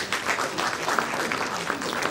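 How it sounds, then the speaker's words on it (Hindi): Steady applause from a seated audience at an international research conference award ceremony in Patna, a dense continuous patter of many hands clapping at even loudness, with a faint voice underneath. "प्लीज तालियां।"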